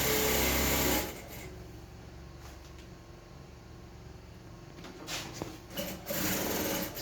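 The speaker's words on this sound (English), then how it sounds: "So I'll be running my stitches on it on 1/2 inch" A sewing machine stitches a belt onto a rope gown, opening with a loud burst, then running at a lower level through the middle before picking up again in stronger bursts near the end.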